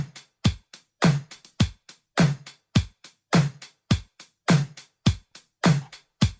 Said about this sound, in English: So we've got this top loop that I just chopped up.